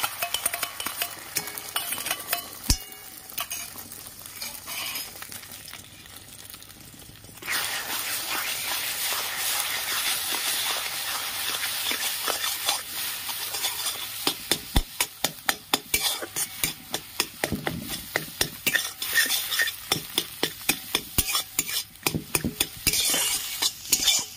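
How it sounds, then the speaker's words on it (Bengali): Hot oil sizzles as an egg fries in a wok, under a spatula scraping and stirring, with the scraping turning into quick, rhythmic strokes toward the end. "ডিমটা আমি এখন ভেজে নেব।"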